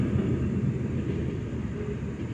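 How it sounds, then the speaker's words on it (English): A short train rolls past a railroad crossing at night with a steady, low, rumbling roar that stays loud and continuous and eases slightly toward the end. "That was a short train"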